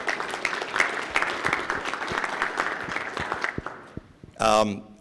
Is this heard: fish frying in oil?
no